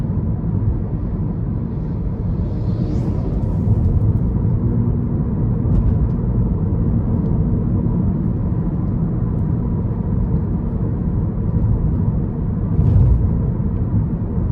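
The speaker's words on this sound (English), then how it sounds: "the road noise is very, very nice as well. It's just a solid thud to it, not overly loud in my opinion." Steady low rumble of tire and road noise inside a 2011 Toyota Prius cabin while driving, a continuous, moderately loud drone with no talk.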